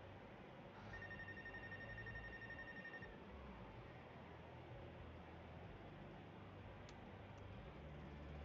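A telephone rings in the video game Life is Strange: True Colors, with a few steady electronic ring tones in the first seconds over a constant low hum and background noise, then no more ringing.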